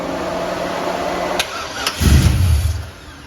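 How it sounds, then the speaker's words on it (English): A car engine cranks with a short starter burst, then catches and runs with a loud low rumble for about a second before settling, in an outdoor setting with people nearby. "All right, engine start."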